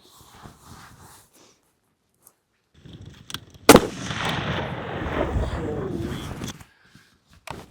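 A single long range rifle shot cracks loudly at a birthday-themed target challenge, followed by a long rolling echo, with quiet voices before and after.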